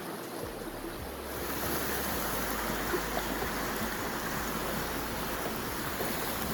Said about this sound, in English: the water gets so loud